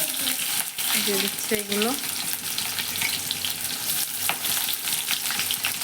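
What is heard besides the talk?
onion, ginger and garlic frying in a pan for ghugni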